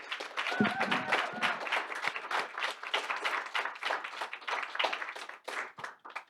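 Audience applause with dense, steady clapping from a room full of people at the close of a song during a class session on apartheid resistance, with a few cheers mixed in and the clapping thinning toward the end.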